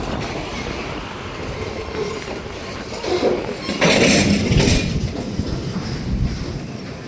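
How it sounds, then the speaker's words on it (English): A train rolls past at close range with a steady rumble and rising clatter of wheels on rail, swelling loudest midway with some high squeal before easing slightly. "So now I'm more up close with the train."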